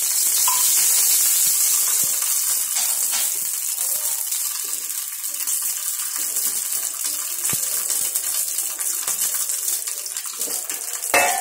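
Hot oil hisses and sizzles steadily in a pan while radish paratha is being made, a close, bright crackling wash that fades slightly after the first moments, with no voices.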